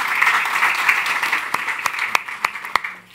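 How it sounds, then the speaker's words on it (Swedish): A live audience applauds at a seminar in Almedalen, a dense, steady wash of clapping with a few louder individual claps standing out near the end. "Jag tycker att ni ska ge en jättestor applåd till Angeles, Birgitta och Lars."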